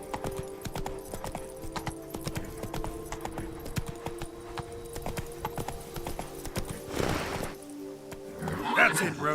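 The horse Roach trots in The Witcher 3, a steady rhythmic clip-clop of hooves near and clear, with a voice speaking over it and a short rushing whoosh near the end.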